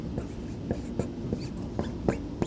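Someone writes an equation by hand, giving a run of soft, evenly spaced strokes and scratches a few times per second, close and fairly quiet, with no talking over them.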